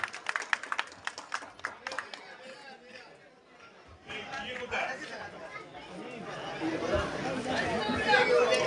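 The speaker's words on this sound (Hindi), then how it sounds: "जोरदार तालियां हो गई।" An audience at a sporting club's annual blood donation camp bursts into clapping, sharp individual claps at first, then swelling crowd applause mixed with chatter and voices.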